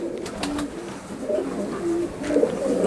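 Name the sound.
golden pigeons cooing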